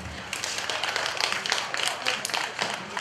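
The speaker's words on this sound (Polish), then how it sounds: "Brawa dla Amelii." An audience claps for Amelia as she is called up to collect a prize at a children's competition, a busy patter of many hands with uneven peaks, fairly close and steady for a few seconds.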